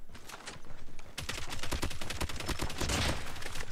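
Rapid automatic gunfire from hipfiring in COD Mobile, a dense close burst of shots. A short pause follows, then a longer sustained stream of fire with no talking.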